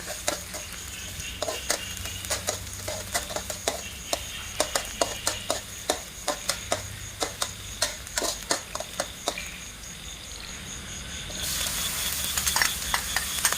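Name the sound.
garlic stir-frying in a hot pan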